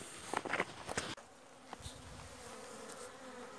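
Honeybees on an orientation flight buzz around their hive, a close, steady hum with a few louder passes in the first second, then a fainter continuous drone.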